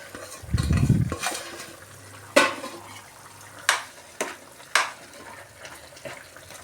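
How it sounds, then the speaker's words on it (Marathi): Roasted semolina upma with peas, carrot and tomato is stirred quickly in a pan: a brief low rumble, then several sharp utensil knocks and scrapes against the metal over a faint background, with no talking. "त्यामुळे आपण पटापट हलवत आहोत"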